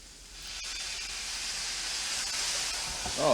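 A steady, broad hiss of steam rises as a little water hits a hot pan of sizzling onions and mushrooms, building slightly louder toward the end, with no talking.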